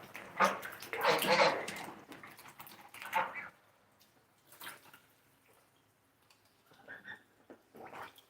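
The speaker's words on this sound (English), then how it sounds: "I've got a little somebody who just keeps splashing all over the place." A pet bird splashes in water in bursts, small splashes and watery flutters close by, with quiet pauses between and faint chirpy sounds near the end.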